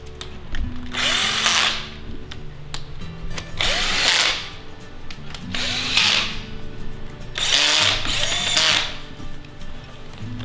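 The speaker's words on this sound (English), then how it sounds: "drills are so strong you could just keep threading your bolt in through the frame" A power drill drives bolts through a strong plastic cage frame in four separate bursts, each a loud whirring spin lasting about a second, with short pauses between them and no talking.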